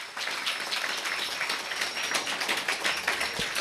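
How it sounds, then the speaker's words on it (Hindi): A church congregation claps steadily, a dense, moderately loud patter of many hands that carries on evenly without speech. "खोल के तालियां, मेरे लिए नहीं"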